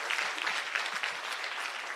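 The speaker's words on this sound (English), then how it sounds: "Please give yourself a round of applause." A room of attendees at a women's day celebration applauds in a steady, moderately loud burst of clapping, individual claps faintly distinguishable, with no speech over it.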